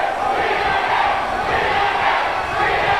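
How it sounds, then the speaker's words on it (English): Large wrestling arena crowd at a TNA event roaring and chanting in unison, a dense continuous wall of voices at steady loudness. "Crowd chanting TNA because this is total nonstop action."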